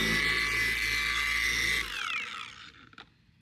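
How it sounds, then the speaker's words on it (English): A cordless buffer polisher works on a car headlight with a steady, loud motor whine for nearly two seconds, then winds down in a falling tone and stops, followed by a brief knock. "Actually, might as well do the headlight too."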